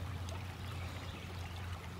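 A creek flows steadily beside a relic-hunting dig site at its edge, a constant close wash of water with a low rumble underneath and no talking.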